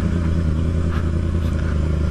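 A Yamaha R6 big motorcycle is ridden along a residential road, its engine giving a steady, loud, close drone with low rumbling harmonics and faint clatter, without letup.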